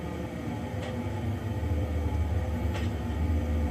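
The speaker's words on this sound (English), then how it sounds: "These trams turn corners really weird." A tram rolls steadily around a corner, a continuous low rumble of wheels on rail with two faint high squeals from the track.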